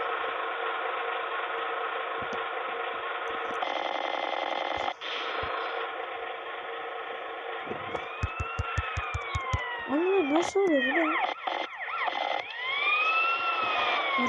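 A wailing police siren from the video game GTA San Andreas rises and falls loudly in the foreground over game noise, with a few rapid sharp bursts partway through.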